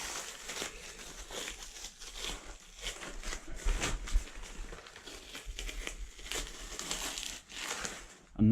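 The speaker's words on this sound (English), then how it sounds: "I'll just give it a little tug like that, just ease it off, and then pull the tape away" Masking tape peeled slowly off freshly painted woodwork, a soft, quiet crinkling and tearing rasp running steadily throughout with no speech.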